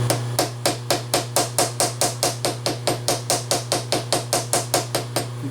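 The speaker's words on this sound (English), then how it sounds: "I can go ahead and tap them all down so they're tight in the parallel." A hammer taps metal stock down onto milling parallels in a machine shop vise, about two dozen sharp, evenly spaced metallic knocks in a steady rhythm over a constant low machine hum.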